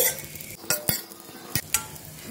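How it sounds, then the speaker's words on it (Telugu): Dry fruits stirred in a hot pan on the stove with a spoon, soft scraping and light sizzling, with several sharp clicks of the utensil against the pan. "ఈ పెన్నం వేడి ఉంటుందని నేను కొద్దిసేపు కలబెడుతున్నానండి."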